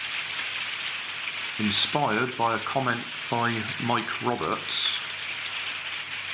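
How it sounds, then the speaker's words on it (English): Rain pattering steadily on a conservatory roof, a constant soft hiss running through the whole stretch while someone speaks over it. "it's raining outside, so sorry about the noise."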